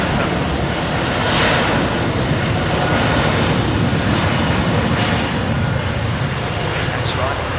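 Boeing 787-10 jet airliner at London Heathrow, a loud, steady, broadband engine roar filling the whole stretch at close range.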